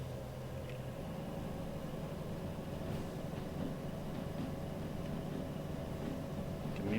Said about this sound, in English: The train's gonna be really loud right now because I'm really trying to get moving.